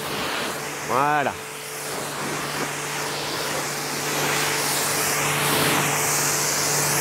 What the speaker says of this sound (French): on humidifie le reste du véhicule